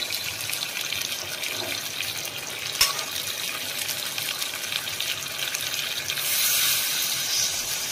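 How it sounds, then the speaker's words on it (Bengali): Hot water pours steadily into a cooking pot of goat meat curry, a continuous close hiss and splash that swells slightly louder toward the end. "একটু গরম জল দেবো।"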